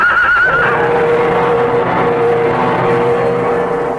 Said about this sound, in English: With a slithering crash, horse and rider went down.